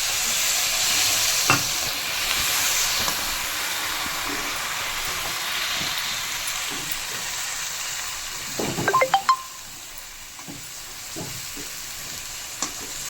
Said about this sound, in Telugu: ఇందులో కాస్త వాటర్ వేద్దాం.